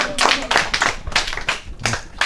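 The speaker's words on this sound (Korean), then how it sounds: "아무리 박수 쳐도 먹을 건 나오지 않습니다" A small group clapping during a talk for prospective first-year high school students, several bursts of hand claps rising and falling, fairly close, with no talking over them.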